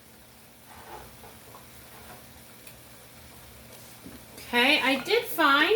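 Asparagus is tossed into a pan still holding a little liquid and starts to sizzle loudly and close up near the end, following a stretch of quieter talk.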